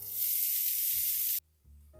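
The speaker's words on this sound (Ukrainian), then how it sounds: "Зараз додаємо сюди цибулю і продовжуємо смажити." Chopped onion hitting hot fat in a pan with fried chicken hearts, a loud, bright sizzle that holds steady then cuts off abruptly, leaving quiet low clatter afterward.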